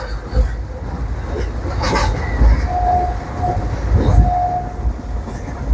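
A train rumbles past with a steady rolling roar at Chidambaram railway station, wheels clattering on the rails and a brief high whistle-like tone in the middle.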